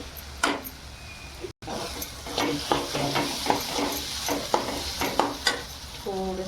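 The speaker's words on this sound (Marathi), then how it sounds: "चांगलं परतून घ्यायचं." Curry base for a fresh field bean curry being sautéed in a pan, steady sizzling under repeated scraping stirs of a spoon, close and fairly loud, with a brief clatter near the end.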